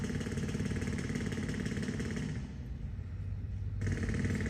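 Loud, steady rapid pounding close by, like a jackhammer, runs through most of the stretch, drops back briefly, then returns just as strong.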